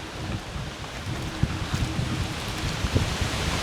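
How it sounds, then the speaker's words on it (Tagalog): Steady strong wind roaring outdoors, a broad constant rush with occasional low thumps of gusts hitting the microphone. "Grabing hangin yan."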